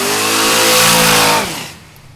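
A 1969 Chevrolet Camaro engine, heard from close by, revs up in a single loud blip, holds briefly, then drops back toward idle and fades.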